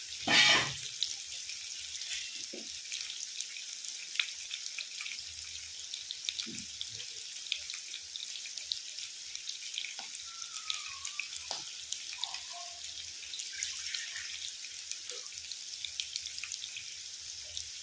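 Potatoes frying in a wok (kadai) over a raised flame, giving a steady, fairly loud sizzling hiss throughout with occasional small pops and no talk.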